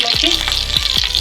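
Garlic, ginger and coriander seeds frying in a spoonful of oil, a bright loud sizzle with a few quick spatula scrapes, no speech.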